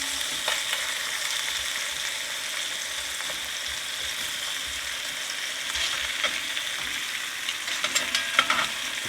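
Onions frying steadily in a cast iron pot, a continuous close sizzle with occasional crackles and stirring clicks, no voices.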